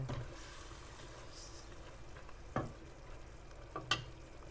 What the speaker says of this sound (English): I just just stir a little bit if you don't stir it might burn